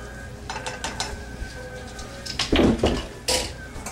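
A whisk scrapes and clinks against a pot while flour is stirred into potato soup, irregular metallic rattles building to a louder flurry near the end, close and without talk.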